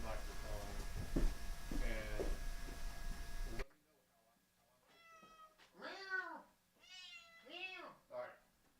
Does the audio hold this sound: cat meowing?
yes